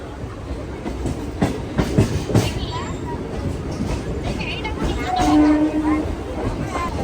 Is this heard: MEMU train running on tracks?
yes